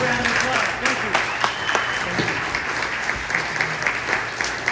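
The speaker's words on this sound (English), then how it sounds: "Give a big round of applause" Applause from a crowd at a small business town hall in Idaho, a steady wash of clapping hands with a few cheers, sustained and fairly loud throughout.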